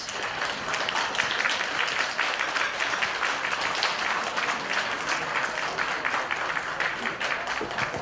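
Sustained audience applause fills the whole stretch, dense and steady clapping from a crowd after a speech, with no pauses and a faint voice or two underneath.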